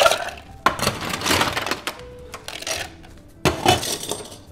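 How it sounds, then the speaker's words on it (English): Ice cubes dropped into a mixing glass for a cocktail, several sharp clinking clatters spread over a few seconds, fairly close and with no talking. "Add some ice."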